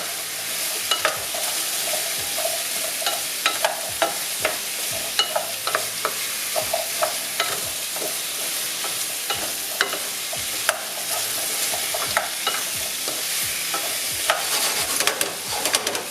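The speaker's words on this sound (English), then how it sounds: "And then just stir it up." Butternut squash is stirred in a hot pan, with a continuous sizzle and frequent sharp clicks and scrapes of the utensil against the pan at an irregular pace, close by and without speech.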